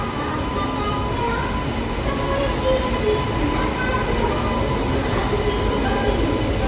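Secunderabad to Raipur express train arriving at platform 6 of a station at night, a steady loud rumble of rolling railcars throughout, close by and continuous.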